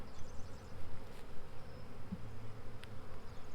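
Honey bees buzzing close at a swarm trap, a steady layered drone that pulses slightly in loudness, with no voices.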